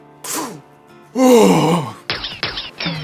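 Heavy, effortful breaths with a strained groan-like quality from someone squeezed into a too-tight shirt, a short gasp followed by a long, loud exhale and then three quick, choppy breaths in a row, close and alone.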